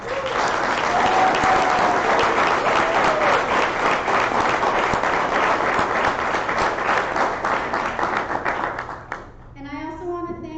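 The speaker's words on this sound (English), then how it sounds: "If we could give them all a round of applause." Sustained applause from a large crowd at an annual general membership meeting, dense and steady, tapering off near the end as a voice begins speaking.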